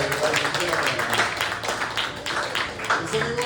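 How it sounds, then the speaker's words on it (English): A small audience gives a round of applause at an evening poetry event, a steady patter of hand claps filling the whole moment at moderate distance, with a voice faintly mixed in. "One more round of applause."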